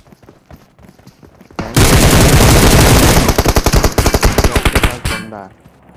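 Thompson and SKS guns fire in PUBG Mobile at Georgopol: a loud, dense burst of rapid automatic gunfire lasting about three seconds, then a run of distinct, quickly repeated single shots before it cuts off.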